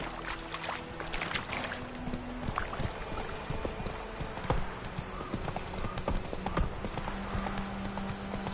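Horse hooves clip-clop steadily at a trot in The Witcher video game, a close, even rhythm of hoof strikes running through the whole stretch with a low game ambience beneath and no talk.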